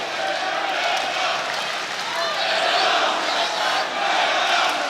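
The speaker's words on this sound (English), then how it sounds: "The crowd really getting behind Matěj" An arena crowd roars steadily at an OKTAGON 32 MMA fight, a loud, continuous wash of cheering with commentary faintly mixed in.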